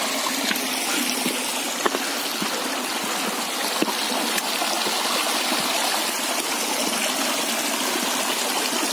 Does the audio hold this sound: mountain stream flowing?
yes